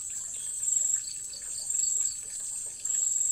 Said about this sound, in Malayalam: ഇനി നമുക്കിതിലേക്ക് കുറച്ച് വെള്ളം ഒഴിച്ച് കൊടുക്കണം.